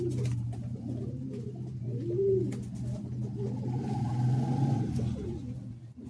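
Madrasi high-flying pigeons coo steadily in a loft, a close, continuous layer of low rolling calls with a few rising, warbling phrases on top.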